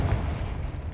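A Confringo blasting spell explodes in the video game Hogwarts Legacy: one deep, rumbling boom that fills the whole moment and stays heavy and low without a sharp crack.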